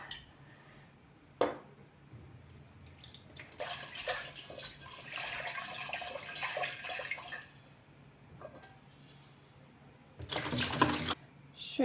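Tap water runs into a pot of broken rice in a kitchen, in two separate bursts of splashing flow with quiet clinks and a brief knock between them, close and moderately soft.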